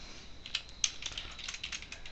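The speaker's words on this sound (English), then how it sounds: "As you can hear me typing in the background." Someone types on a computer keyboard in a quiet room, a quick irregular patter of light clicking keystrokes with a few sharper taps, faint and close, no voices.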